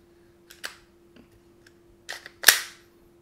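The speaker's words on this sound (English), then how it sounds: "I'm going to try and insert the magazine" A magazine slides into a VFC/Stark Arms Glock 17 airsoft pistol, with a few light plastic clicks and then one sharp, loud snap as it locks in place, close and alone against a faint steady hum.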